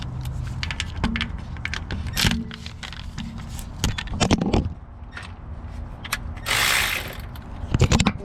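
Ratchet clicking while loosening the starter bolts on a 2002-2007 Jeep Liberty 3.7, with bursts of rapid close pawl clicks between pauses, clanks and a short hiss of movement.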